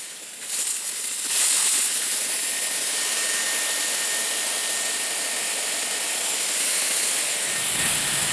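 A Dyson Airwrap hair styler with its barrel removed blows air in a loud, steady, broadband rushing hiss that starts after a brief rise and holds evenly, close up, with no speech.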